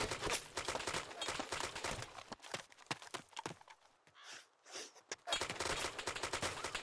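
Rapid bursts of gunfire in Arma II: Operation Arrowhead crackle in quick volleys, pausing briefly in the middle before resuming in a dense, loud stream.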